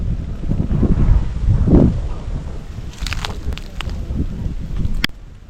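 Gusty wind buffets the microphone in low rumbling bursts, with faint rustling and a few clicks near the end.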